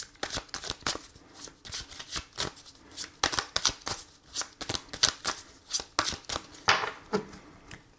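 Oracle cards are shuffled before a nine-card draw, a close, continuous run of quick riffling flutters and soft slaps in an uneven rhythm.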